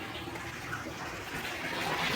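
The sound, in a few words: water filling a container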